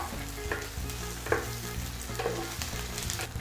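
Onions and tofu fry in a hot pan with a steady sizzle, while a few sharp stirring scrapes and clinks come through up close.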